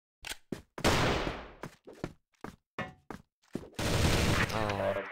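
Gunfire in a tactical shooter match rings out as separate sharp shots and short bursts with reverberant tails, close and loud, with footsteps and movement between them.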